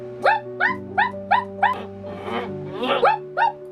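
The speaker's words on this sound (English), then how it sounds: "is that a dog?" A neighbouring dog barks in a quick series of six or seven sharp yips, then gives a few more strained, whiny barks. The barking is fairly close and clear against a low steady hum, with no talk.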